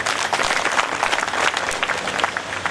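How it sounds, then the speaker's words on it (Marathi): An audience at a ceremony in Amravati district applauds for Vairagi Baba, many hands clapping in a loud, busy, continuous burst. "त्यांच्यासाठी आपण टाळ्या वाजवायच्या आहेत"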